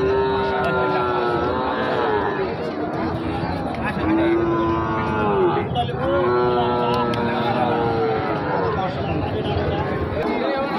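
Sahiwal, Gir and Nepali cattle low in long drawn-out moos at a cattle market near the India–Bangladesh border, over a constant hubbub of many people talking in a crowded outdoor space.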